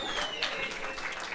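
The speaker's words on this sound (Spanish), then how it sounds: "Ay, gracias por ese aplauso." Brief audience applause after a comedian's joke, a short burst of crowd clapping with a faint tone and voices mixed in underneath, fairly quiet overall.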